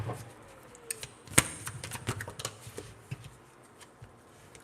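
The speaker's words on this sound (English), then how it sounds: "One more shuffle, y'all." Cards are shuffled close by in soft, scattered flicks and riffles, with one sharper burst of snapping cards partway through, all fairly quiet.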